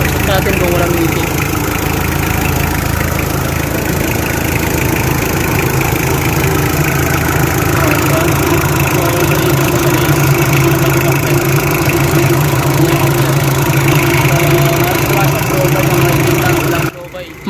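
A Mitsubishi Adventure's engine idles steadily and close up, a constant mid-low drone with faint rhythmic ticking, running unbroken until it cuts off at the very end.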